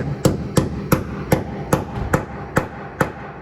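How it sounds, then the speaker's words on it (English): A hammer taps a bit into the head of a bed bolt, eight sharp metallic strikes at a steady, roughly even pace, close and clear with no talking. "Take your hammer and just start tapping it in"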